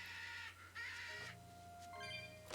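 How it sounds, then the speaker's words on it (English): Birds caw repeatedly in the video game Tales of Berseria, harsh calls heard fairly clearly over a steady game ambience. "Birds, please stop."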